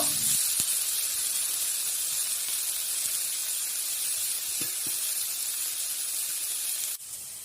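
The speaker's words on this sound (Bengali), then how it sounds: "রসুন লঙ্কা ভাজা ভাজা হয়ে গিয়েছে, দিয়ে দিয়েছি শাক। শাক নেড়ে চেড়ে ভালো করে ভেজে নেব।" Bottle gourd greens frying with garlic and dried chili, a constant hissing sizzle at moderate level with a few faint clicks and a sharp knock near the end.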